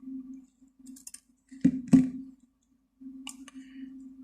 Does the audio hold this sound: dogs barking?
no